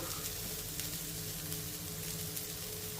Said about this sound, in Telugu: ఇప్పుడు ఈ ఉల్లిపాయ ముక్కల్ని 1 నిమిషం ఫ్రై చేసుకోవాలి